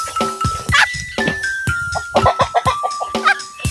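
Native chickens cluck and squawk close by in loud, choppy bursts, several birds overlapping, with a rooster's drawn-out call mixed in over a few seconds.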